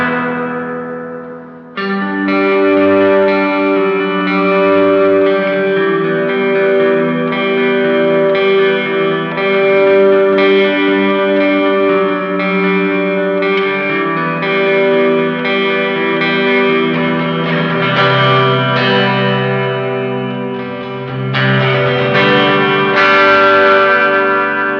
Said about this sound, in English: max out that feedback control to hear what the vintage mode reverb sounds like at its